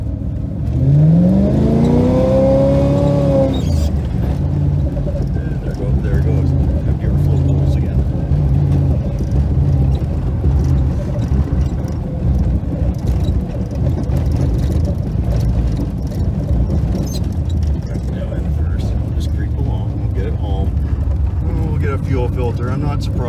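A car engine creeping along in first gear rumbles steadily at low speed, with a brief rising whine near the start, then a constant throaty drone throughout.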